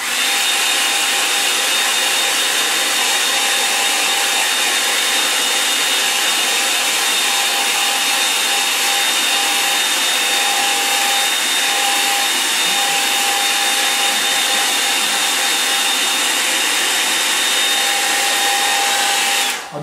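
A hair dryer blasts at full power close to the microphone, a loud, steady broadband roar with a constant whine running unbroken for the whole stretch before cutting off at the very end.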